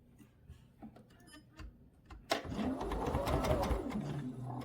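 A domestic sewing machine stitching a quilt block, starting after a few quiet clicks and handling sounds, then running in a steady, close, continuous whirring hum with rapid needle ticks for the last couple of seconds.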